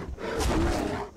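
A bear in Skyrim lets out a single deep, rough roar that swells and fades over about a second, close and prominent over quiet game background.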